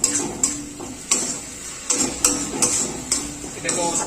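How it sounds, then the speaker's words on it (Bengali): Tomato and green chili paste being stir-fried in a pan for chicken bhorta: a spatula repeatedly taps and scrapes against the pan in an uneven rhythm, close by, with a steady faint sizzle beneath. "এবার এটাকে ভালো করে কিছুক্ষণ কষিয়ে নিতে হবে।"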